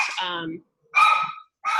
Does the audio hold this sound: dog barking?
yes